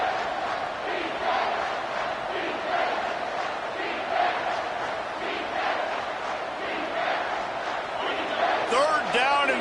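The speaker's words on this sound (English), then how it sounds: "This crowd will blow out a vocal cord to help this defense." Huge college football stadium crowd roaring steadily during a defensive play, a dense sustained wall of cheering and yelling with a commentator's voice running over it and a brief whistle-like burst near the end.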